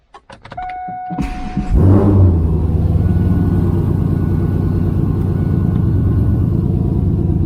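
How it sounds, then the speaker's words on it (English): 2002 Camaro SS V8 cranking with a few starter whirs, then catching and settling into a loud, steady, close idle rumble. "I'm going to start the car"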